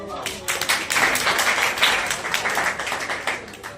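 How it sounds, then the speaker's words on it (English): Audience in a lecture hall clapping for a student, a burst of many hands applauding close by for a few seconds before gradually thinning out. "Clap for her."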